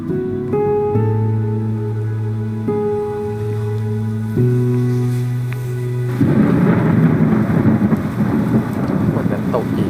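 Steady rain with a rumble of thunder rises to full strength after about six seconds of sustained musical tones, a dense broadband wash continuing to the end.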